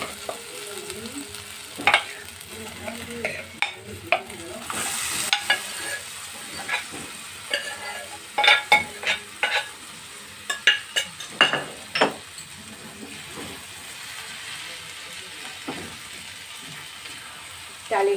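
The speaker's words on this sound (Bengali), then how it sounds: "এবারে আমি এটাতে ডাল মেশাবো।" Lentils being stirred into fried spices, fenugreek among them, for dal makhani: a spoon scrapes and clatters against the pan in repeated strokes over a soft, steady sizzle.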